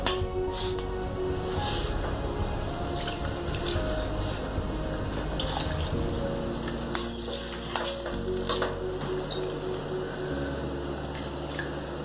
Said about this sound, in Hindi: अभी इसमें थोड़ा सा पानी और जाएगा।